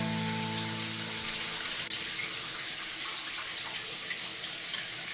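Water runs steadily from a tap, a constant close hiss and splash that continues alone after a brief tonal hum fades in the first second.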